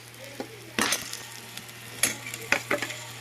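Onion and green chili paste frying in a pan for a fish curry, a steady sizzle broken by several sharp stirring scrapes and clanks, with no voices.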